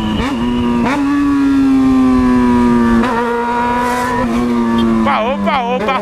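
A Yamaha XJ6 motorcycle engine, fitted with just the bare exhaust pipe, runs loudly nearby with a steady droning note, revving up at the start and again sharply near the end.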